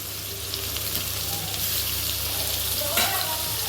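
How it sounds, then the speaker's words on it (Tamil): Finely chopped garlic sizzles and crackles in hot oil with onions, a close, steady frying hiss with a few brighter pops near the end. "இதை நல்லா வதக்கி விட்டுடுங்க."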